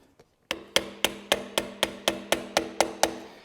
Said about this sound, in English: You take two small screwdrivers, drive the one in and then the other.